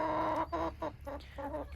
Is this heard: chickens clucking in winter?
yes